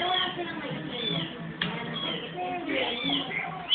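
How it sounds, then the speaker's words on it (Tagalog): Kittens mew in thin, overlapping high cries that run continuously and close by, with a person speaking over them. "Meow ng meow yung iba."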